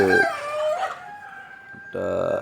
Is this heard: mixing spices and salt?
no